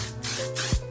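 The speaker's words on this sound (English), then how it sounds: "spray and don't touch." Hairspray mists over freshly curled, tightly waved hair in two short hissing bursts close to the mic, followed by a soft low thump.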